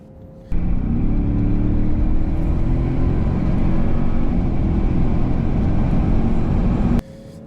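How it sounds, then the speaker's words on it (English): A 2024 Land Rover Defender 130 launches hard from a standstill in an acceleration test, a loud sustained engine roar and drivetrain whir that starts abruptly and cuts off after about six seconds. "Now we're gonna do it at a higher speed because the transmission does a better job with the Defender in higher speed."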